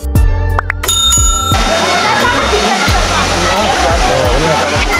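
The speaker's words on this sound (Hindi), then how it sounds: "देखिए कितना प्यारा वाटरफॉल है।" A waterfall at Alewa Dham near Bhuleri in Alwar pours into pools of water as a constant rushing hiss. Sharp bell-like chimes ring out at the start before the steady falling water takes over, and a voice speaks in the background.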